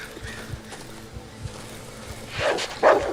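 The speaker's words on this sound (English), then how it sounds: "The camp with a bunch of dogs." Dogs bark from a camp in the survival horror game Darkwood, starting as faint, evenly spaced thuds and building into a couple of louder, close barking bursts near the end.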